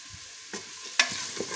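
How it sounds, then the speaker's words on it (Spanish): Chopped garlic and onion sautéing in a pot, with a steady soft sizzle and a few stirring scrapes, including one brighter clatter partway through. No one speaks. "Añadir los dientes de ajo que como veis los tengo bien picaditos. Y la cebolla igual picadita. Y la vamos a pochar todo muy bien."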